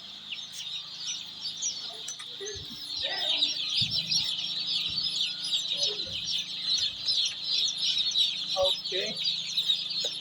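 Chickens inside a poultry farm brooding house keep up a dense, continuous chorus of clucks and chirps, close and busy, with a voice and a few knocks and footsteps breaking through now and then.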